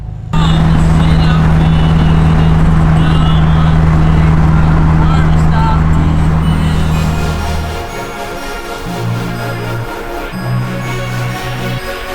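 An off-road vehicle engine fires up and runs loudly with a steady low drone, then drops to a rougher, uneven idle with intermittent revs; voices talk over it.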